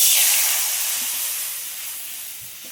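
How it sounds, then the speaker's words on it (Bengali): Water poured into a hot pan just used for frying tilapia erupts in a loud hissing sizzle that slowly fades and softens over a few seconds, with no voices. "সব মাছ ভাজা হয়ে গেছে, কড়াইতে জল দিয়ে দিচ্ছি"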